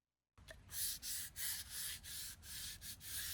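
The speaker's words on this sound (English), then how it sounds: "I used the 220 grit sandpaper to rough up the gluing surface" Sandpaper of 220 grit rubbed back and forth across a wooden gluing surface, a close, steady series of about a dozen scratchy strokes with no talking.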